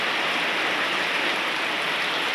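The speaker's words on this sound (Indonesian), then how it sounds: "Lagi diguyur hujan guys." Heavy rain pours down steadily in Mojokerto, a dense, loud and unbroken hiss of falling water with no voices.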